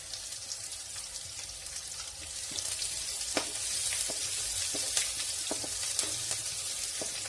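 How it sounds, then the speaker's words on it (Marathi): Onion fries in a pan for quick sambar, giving a low steady sizzle with scattered crackles and light clicks, no voices. "कांदा थोडासा भाजू द्यायचा आहे"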